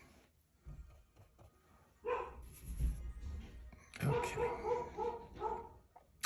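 A pet dog barks excitedly in a home art studio during an oil painting session, a run of sharp, fairly close barks and yips bursting out in clusters over the second half, with a brief word spoken beforehand.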